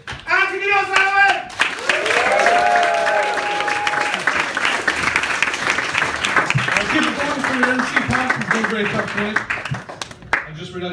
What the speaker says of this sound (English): get your applause on, ladies and gentlemen